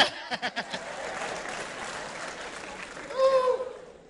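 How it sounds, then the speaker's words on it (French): An audience claps at a comedy show, first a few distinct claps and then a sustained round of applause that swells near the end, while a voice talks over it. "Ah, applaudissez."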